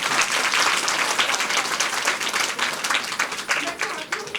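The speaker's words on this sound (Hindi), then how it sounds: "मैं चाहती हूँ कि आप तालियों से उनका स्वागत करें।" Audience at a women's conference in Vishwas Nagar, East Delhi, breaks into loud, sustained applause welcoming a guest, dense clapping close and continuous before tapering slightly toward the end.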